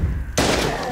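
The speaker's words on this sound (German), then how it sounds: "Schuss." A single sharp gunshot in the video game Miasma Chronicles bursts out suddenly, followed by a lingering noisy rumble of echo and ambience.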